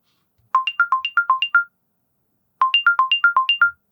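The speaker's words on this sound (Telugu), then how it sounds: "ఈ ఫైండ్ మై హెడ్ ఫోన్స్ ని సెలెక్ట్ చేసుకుంటే హెడ్ ఫోన్స్ మోగుతాయి" A CMF Headphone Pro find-my-headphones alert plays two loud bursts of quick stepped electronic beeps, each about a second long, separated by a short silence.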